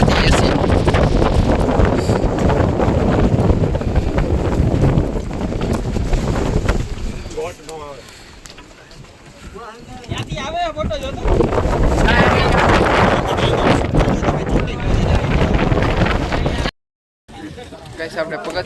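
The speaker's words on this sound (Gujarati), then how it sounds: "તમે જો કેટલો ફાસ્ટ પવન આવે" Strong wind roars across the open steps of Girnar hill in Junagadh, buffeting the microphone loudly for most of the stretch, easing briefly in the middle before gusting hard again; a person talks in places beneath it.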